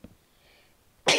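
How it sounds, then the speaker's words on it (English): A single sudden sneeze bursts out at the very end, loud and close, after near-silence, during a virtual-reality Minecraft gaming session. "Sneezing in VR."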